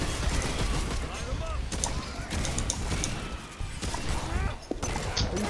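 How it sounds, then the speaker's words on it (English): Gunfire rattles through a Remnant 2 firefight in dense, rapid bursts with sharp crashes, loud and nearly continuous, while voices talk over the shooting. "Stop shooting me!"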